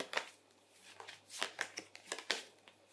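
A tarot card is drawn from the deck, making quiet, crisp papery flicks and slides in several short bursts with soft rustling between them.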